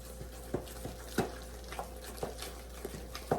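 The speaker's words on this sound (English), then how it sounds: "I'm stirring it and kind of pressing it down at the same time." A spoon stirring and pressing down thick banana bread batter in a bowl, soft repeated scrapes and dull knocks about every half second, close and quiet over a low steady hum, with no talk.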